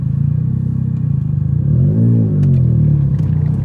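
A modified 1995 Suzuki Cappuccino kei car drives with a steady, close engine drone that swells into a brief rev near the middle, then settles back. No one speaks.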